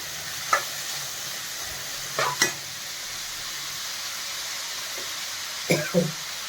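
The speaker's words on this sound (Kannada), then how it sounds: "ಇದೆಲ್ಲ ಸ್ವಲ್ಪ ಚೆನ್ನಾಗಿ ಫ್ರೈ ಆಗಬೇಕು" Capsicum frying in a pan for chapati noodles, a steady soft sizzle with a few brief clatters of stirring scattered through.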